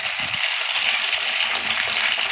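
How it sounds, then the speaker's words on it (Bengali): Taler Misty, Bengali palm fruit sweets, frying in oil in a pan over a medium gas flame, giving a steady, close, continuous sizzle with no talk. "এবার গ্যাসের ফ্লেম কিন্তু মিডিয়ামে রেখে ওলট পালট করে ভাজতে হবে"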